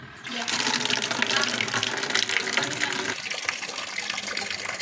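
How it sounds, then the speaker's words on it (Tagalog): Water gushes steadily into a washing machine tub during a test fill, a loud continuous rushing pour that starts abruptly and runs on without pause. "Lagyan natin ng tubig."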